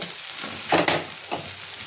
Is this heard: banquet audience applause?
no